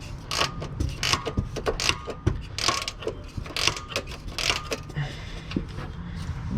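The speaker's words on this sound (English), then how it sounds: "one of our ratchety wrenches right here. It's a size 13. I'm gonna use it to break it loose" A size 13 ratchet wrench breaks loose an exhaust bolt during a car exhaust system install, giving a quick series of close, sharp ratcheting clicks in uneven bursts, with a few clanks of metal.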